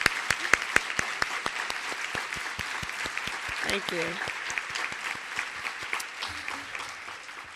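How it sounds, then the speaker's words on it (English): Conference audience applause in a large plenary hall, steady clapping for several seconds that fades out, with a brief spoken thanks over it. "let's give them a round of applause"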